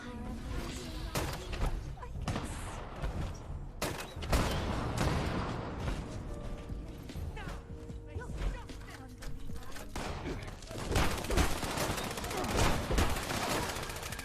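Rapid weapon fire in Fallout 76 crackles in dense, fast bursts that continue almost without pause, loud and busy, with layered game effects mixed in.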